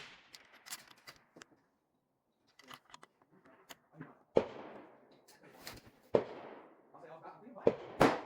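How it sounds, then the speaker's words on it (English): Remington F-TR rifle firing at 1000 yards in wind, sped up to double speed: four sharp, loud shot reports spaced about two seconds apart, each with a decaying tail, after a stretch of faint clicks and handling noise. "this clip is sped up to double speed, so the shots are going to come a little quicker"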